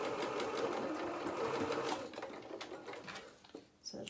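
Close, steady motor whir of a sewing machine stitching the shoulder seams of a small doll jacket, running for about two seconds before slowing and stopping, with faint handling noises after.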